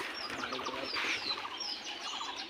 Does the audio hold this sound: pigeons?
yes